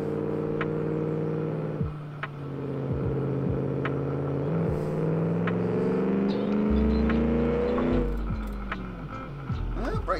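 A 90-degree V engine car from the racing sim Automation drives steadily, its rumbling harmonic drone rising and falling with revs and gear changes, loud and continuous throughout.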